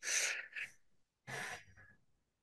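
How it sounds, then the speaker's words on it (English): Two sharp, breathy mouth inhalations during a relaxation breathing exercise, close and clear, separated by a brief silence, with no talking. "we're going to take 3 mouth breaths"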